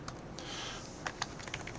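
Typing on a computer keyboard while coding, a quick run of light, close key clicks at an uneven pace, quiet and with no talk over it.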